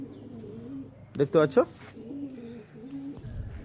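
Malbai and Madras pigeons cooing in a loft, a short cluster of soft throaty coos close by, heard under someone talking.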